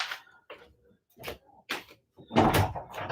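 A door being opened and closed in a house, heard as a few separate clicks, knocks and rustles spread over a few seconds, close and moderately loud, ending in a louder handling clatter.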